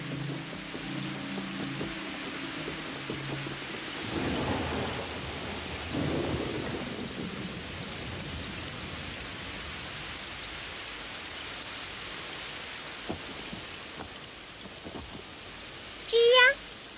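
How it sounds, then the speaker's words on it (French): Sudden rain and thunder breaking out outdoors after a calm spell: a low rolling rumble early, then a steady hiss of rain on surfaces that continues throughout, with a brief sharp sound near the end. "Oh, vite, il pleut."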